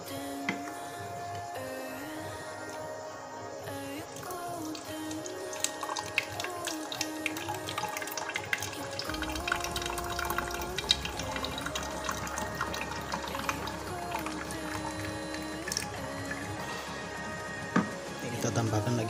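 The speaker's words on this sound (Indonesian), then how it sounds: "Kita tuang ke botolnya dulu." Thick, milky laundry perfume and ironing starch liquid pours into a bottle, a long, soft, steady trickle of liquid heard faintly beneath continuous background music.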